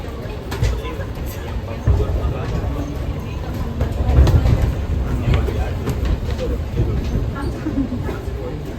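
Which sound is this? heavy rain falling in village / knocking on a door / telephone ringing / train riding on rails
train riding on rails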